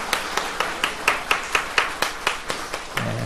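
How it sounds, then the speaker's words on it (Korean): A church congregation at a Sunday service claps in unison, about a dozen sharp, evenly spaced claps in a brisk rhythm, fairly close, ending as a low hum comes in. "우리 서로 감사합니다 하는 마음으로 축복의 박수 서로 하겠습니다"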